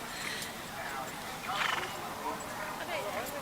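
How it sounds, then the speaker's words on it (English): A horse canters in a side-saddle show ring, its hoofbeats soft and steady beneath continuous background voices and crowd murmur. "he just goes straight into canter"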